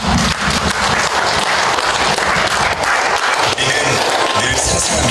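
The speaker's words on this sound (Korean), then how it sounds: "힘찬 박수로 환영해 주시기 바랍니다." Sustained, loud applause from a seated audience at a city mayor's public town-hall meeting with residents in Icheon, steady clapping filling the whole stretch with a few brief dips and no talk over it.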